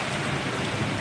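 Monsoon rain in the Hirwadi area of Ahmedabad, a dense, steady downpour hissing and pattering loudly and evenly through the whole brief moment, with no voices.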